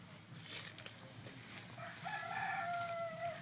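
A rooster crows once in a cow shed where chickens roam, a faint drawn-out call rising over quiet barnyard background noise, with no talking.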